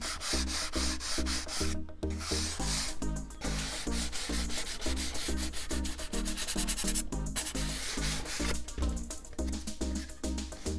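Balsa wood being sanded on the turtle deck of a Balsa USA Smoothie RC plane kit, steady rhythmic back-and-forth rubbing strokes, close and loud, continuing without pause and with no talk.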